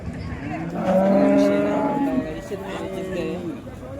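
A large cow at the Modnimb cattle market lets out one long, loud, drawn-out moo close by, while people talk around it before and after.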